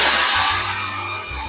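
A cordless vacuum cleaner with 25,000 Pa hurricane suction runs close by, a loud, steady broadband whoosh of airflow with a low motor hum beneath it, heard alone.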